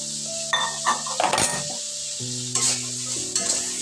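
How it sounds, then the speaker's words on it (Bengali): Kidney beans (rajma) being stirred in a hot pan, a soft sizzle broken by a few scraping, clinking strokes of a utensil, with background music underneath. "দিয়ে একটু নেড়ে চেড়ে নিচ্ছি।"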